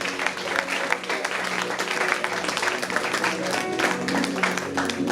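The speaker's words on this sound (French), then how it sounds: "applaudissons pour nous-mêmes." At a 70th birthday celebration for a pastor, the congregation applauds itself, with clapping and scattered voices over steady background music or hum.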